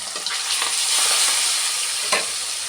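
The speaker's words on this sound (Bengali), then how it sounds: "ভাজাটা চাপিয়ে দিলাম" Fish rubbed with salt and turmeric fries in a pan on a gas stove, giving a loud, dense, continuous sizzle close by with faint crackles and no voices.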